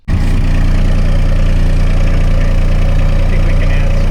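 Kubota RTV X900 utility vehicle engine catching and then idling steadily, a loud, close, continuous low rumble with no talk.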